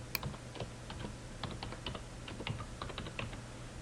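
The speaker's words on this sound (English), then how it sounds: "I believe I'm typing in the right password." A computer keyboard is typed on while entering a password for disk encryption software, a run of quick irregular clicky keystrokes close up, heard alone with no talk.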